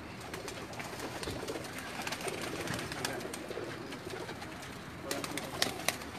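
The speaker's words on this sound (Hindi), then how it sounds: "आज हम अपने थोड़े से कबूतरों का शौक़ करवा रहे हैं आपको लाइव" Pet pigeons on a rooftop loft in Jeddah coo softly in the background, with scattered wing flutters and sharper clicks near the end over a low ambient hum.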